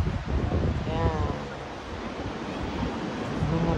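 Rough sea waves rolling onto a French beach on a cold, windy day, a constant surf roar with wind buffeting the microphone and a voice talking over it.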